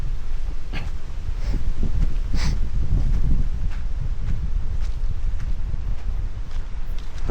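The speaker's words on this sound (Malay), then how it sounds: "Sejuk, nak tengok angin sini." Steady wind gusting outdoors near a Malay village under darkening skies, a continuous broad rushing roar with heavy low buffeting on the microphone, loud throughout with no talk.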